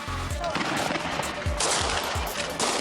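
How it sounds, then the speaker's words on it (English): Bursts of gunfire as authorities storm a hostage building in Peru, cracking repeatedly, several shots in quick succession with echoing booms, loud and close, over a noisy background. "Outside, the authorities try to shoot their way in again."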